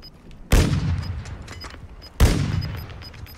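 Two loud, sharp gunshots in Call of Duty: Warzone, spaced well apart, each with a long rumbling decay, over faint ambient game noise and small beeps.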